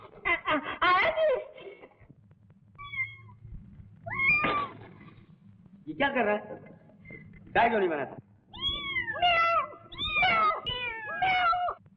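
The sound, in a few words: man imitating a cat meowing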